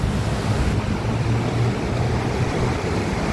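Water of the Marikina River flowing outdoors after a flood, a steady, loud rushing wash with wind noise, and no voices.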